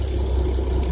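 Diesel engine of an aquaculture work boat idling, a steady low rumble with a faint rattle, close and continuous with no talk.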